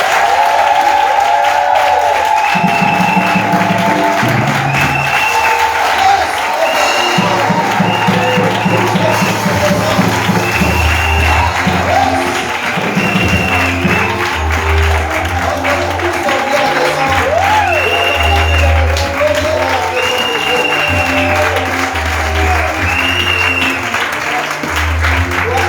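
Church congregation applauding and cheering for the Lord, a long, loud, dense wave of clapping and crowd voices filling a hall, with music and shouts mixed in throughout.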